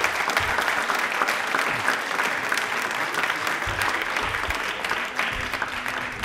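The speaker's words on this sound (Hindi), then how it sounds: "तालियां प्लीज मैम के लिए जोरदार आवाज होनी चाहिए।" A studio audience at a Janjatiya Gaurav Divas quiz show claps loudly in a steady, dense burst lasting several seconds, with no speech over it.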